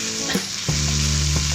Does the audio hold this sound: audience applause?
no